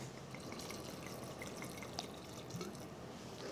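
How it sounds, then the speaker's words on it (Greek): Water is poured into a cooking pot for beef ossobuco, a faint, steady trickling with small drips and splashes, quiet and close. "Προσθέτουμε νερό."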